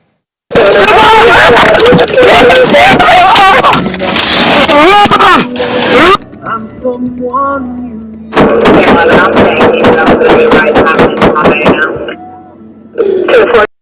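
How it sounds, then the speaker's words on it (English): Rapid pistol gunfire emptying a magazine, captured on police body camera, a dense burst of very loud sharp shots followed after a pause by another fast volley, with shouting voices mixed in. "That's what we call the mag dump."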